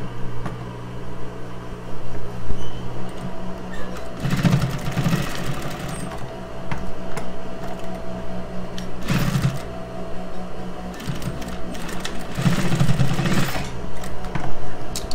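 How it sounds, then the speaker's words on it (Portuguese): A sewing machine stitches fabric for a small triple-pouch cosmetic bag made from scraps, running in several short loud bursts with quieter handling between them, including a reinforcing back-stitch. "Faça uma costura de retrocesso, né, para ficar bem reforçado."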